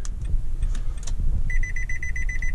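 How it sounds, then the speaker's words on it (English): A 2020 Nissan Pathfinder sounds a rapid series of short, identical electronic beeps during key programming, evenly spaced and fairly loud, beginning partway through after a low rumbling background. "First one, we'll hear a beep."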